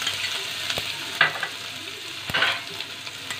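Ginger and garlic fry in hot oil in a pan for Hakka noodles, a soft steady sizzle broken by a few sharp scraping stirs of a utensil, close and fairly quiet with no talking.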